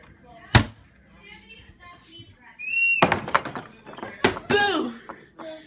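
A sharp thump of a door shutting, followed by children's voices, laughter and a few more knocks and bumps.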